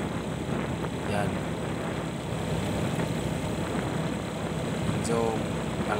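Motorcycle engine running at speed on the road near Butuan City, a continuous droning rumble with wind roar, steady and close throughout.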